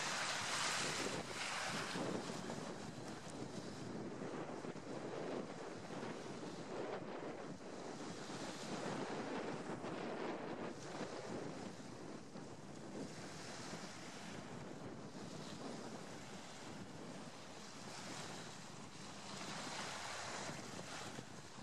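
Waves wash steadily onto a beach on Miyajima Island, Hiroshima, with constant surf noise and strong wind buffeting the microphone, and no voices.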